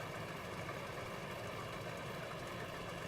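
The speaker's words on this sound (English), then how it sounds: "She's a loud tractor." A loud tractor engine idles in a steady, continuous low rumble with a faint knocking texture, heard alone without talk.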